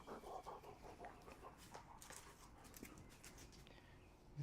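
A dog pants quickly and lets out soft whimpers close by, the breathy panting and brief whines fairly quiet and steady throughout.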